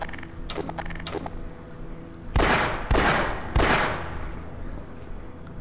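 Three loud single gunshots from the Half-Life video game, fired about half a second apart after a quieter stretch of game ambience and machinery hum.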